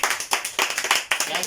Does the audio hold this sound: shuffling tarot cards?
no